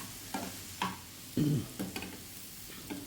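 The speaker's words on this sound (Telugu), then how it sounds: "అదిగో చూడండి బీరకాయ ముక్కలు బాగా చక్కగా వేగుతున్నాయి" Ridge gourd pieces fry in a pan, a soft steady sizzle cut by several distinct stirring scrapes in irregular rhythm, close and fairly quiet.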